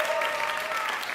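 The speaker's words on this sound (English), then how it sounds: "Everybody give Sandy applause" Audience applause for Sandy at an open-stage variety show, a dense steady patter of clapping hands held at even loudness through the short stretch, with no voices rising above it.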